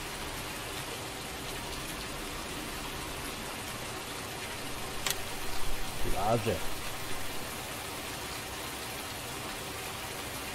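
Rain falling in the farming video game Farming Simulator 19, a steady broadband hiss throughout, with a brief spoken word and a short louder burst midway.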